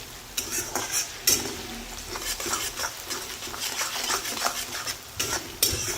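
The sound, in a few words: onion frying in masala mixture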